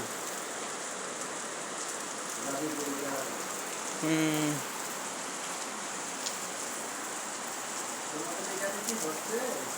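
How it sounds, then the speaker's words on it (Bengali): Heavy pouring rain falls as a steady, dense hiss throughout, with a few brief voices and faint tonal sounds briefly audible above the downpour. "মুষলধারে বৃষ্টি হচ্ছে।"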